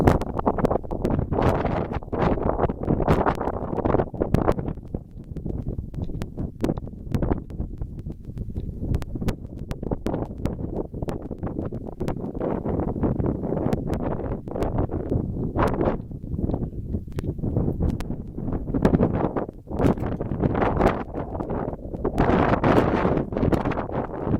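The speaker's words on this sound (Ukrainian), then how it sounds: "тут вітер дуже сильний, я на вершині гори" Strong gusting wind on a Carpathian mountain summit buffets the microphone continuously, with heavy rumbling roars and sharp bursts throughout; no voices are heard.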